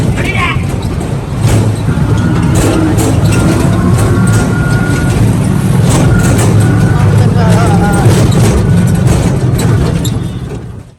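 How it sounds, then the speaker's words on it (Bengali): A loud, steady roar of a vehicle echoing through an enclosed tunnel beneath a railway line for several seconds, with faint voices underneath, fading out at the end. "এই রেল লাইনের এই নিচটা দিয়ে যাইতে হয়, এটা গুহা। দেখেন কেমন একটা শব্দ।"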